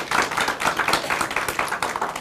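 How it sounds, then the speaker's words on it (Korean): An audience claps at a talk event, a short, close burst of many hands clapping in a quick, uneven patter that rises and falls, with no speech. "박수로 부탁드릴게요."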